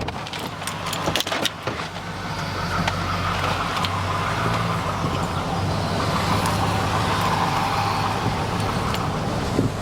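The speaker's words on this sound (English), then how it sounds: "Let me pull it up, man, so we can really look at this truck" A truck, a Super Sport model with about 80,000 miles, idles and rolls forward as it is pulled up, a steady close engine rumble with some rattling and jangling early on and no talking.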